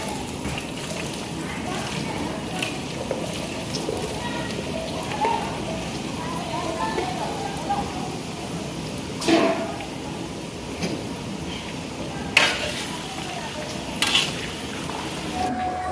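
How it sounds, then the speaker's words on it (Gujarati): Potatoes fry in a pan with a continuous rain-like crackling sizzle, marked by a few louder clattering stirs, while a voice talks over the cooking. "તો આપણે બટાટા ફ્રાય કરી લઈએ"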